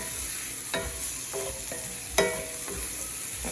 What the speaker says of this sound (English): Cooked down, I'm gonna go ahead and put my garlic in